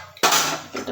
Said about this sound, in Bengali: এটা কড়াই বসিয়ে দিলাম